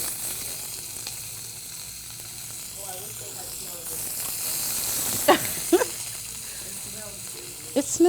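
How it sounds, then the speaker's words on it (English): Onions and peppers sizzle in hot oil in a pan, a steady close frying hiss with a few sharper crackles and spits, while a voice talks over it. "we're gonna go ahead and drop our onions in the pan. You hear that sizzle?"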